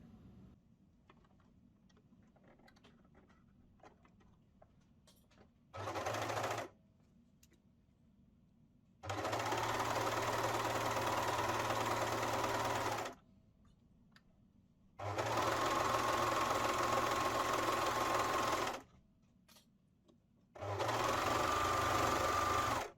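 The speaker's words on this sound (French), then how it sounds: "je vais venir le passer à la surjeteuse" An overlocker stitching a garment side seam runs in four loud, steady whirring bursts of several seconds each, separated by quiet pauses with faint handling clicks.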